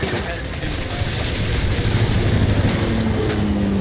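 A helicopter in the Gears 5 video game gives a steady, loud rotor drone with mechanical rattling that builds slightly throughout, under combat noise from the game.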